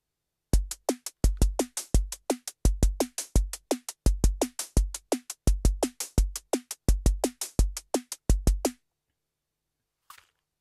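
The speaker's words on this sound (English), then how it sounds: "I can play it in a basic pattern for you to give you an idea of how it might" A Korg Volca Drum patch emulating an acoustic kick drum plays a steady, looping basic pattern of deep, punchy thumps in quick groups for about eight seconds, then stops, leaving near silence with one faint click.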